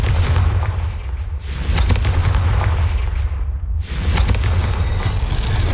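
A Confringo fire spell explodes in the Hogwarts Legacy video game, giving loud, booming blasts over a constant heavy rumble, with sharp cracking bursts near the start and again just before four seconds.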